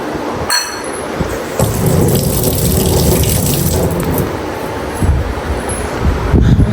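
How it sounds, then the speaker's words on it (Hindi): Kitchen tap running while dishes are washed at the sink, a steady splashing stream of water with clinks and knocks of utensils, close and fairly loud. "सारे बर्तन धो दिए ऊपर से जितने थे"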